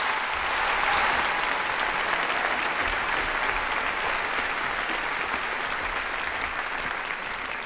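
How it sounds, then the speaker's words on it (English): Audience at a university postgraduate graduation ceremony applauding graduates, a broad, steady wash of clapping from a large crowd in a hall, sustained and gradually easing. "Please join me in a round of applause."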